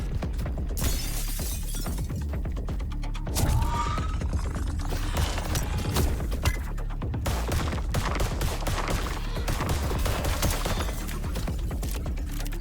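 Rapid gunfire and shattering impacts while shooting flying enemies in the video game Void Breaker, a dense, loud, continuous barrage of game combat sounds with no talk.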